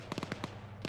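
M2 heavy machine gun firing in a video game, a quick burst of about five sharp, distant shots in rapid rhythm, then a short pause and one more shot, fairly faint.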